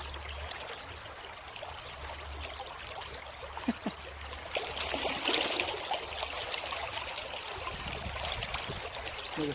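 Stream water rushes and gurgles hard against wading boots as it rises toward their tops, a steady close flow with a low rumble underneath and small splashes, growing slightly louder midway.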